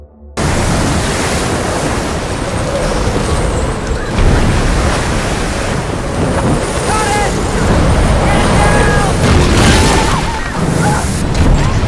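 Storm waves pound a small boat at sea while the wind roars. The dense, loud surf is broken by heavy booming surges that swell and fade throughout.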